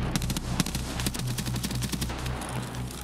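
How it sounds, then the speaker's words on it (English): Rapid automatic gunfire in a first-person shooter video game, dense overlapping bursts of loud shots with a steady low rumble beneath, continuous for the whole stretch. "They're shooting us."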